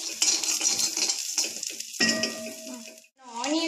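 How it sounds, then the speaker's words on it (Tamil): Ginger and garlic sizzling in a pan for masala pasta, a close crackling sizzle mixed with metallic clinks and scrapes of a spoon against the pan over a few seconds, with a brief pause near the end. "நான் இப்போ இதில் இஞ்சி போடுறேன், பூண்டு போடுறேன்."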